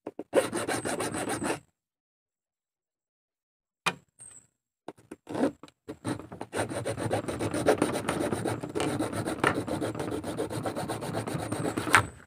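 Part of a Panasonic washing machine spin timer is cut off by hand, giving a scraping, rasping burst, then a pause with a few brief clicks, then a longer stretch of steady sawing and rubbing strokes up close.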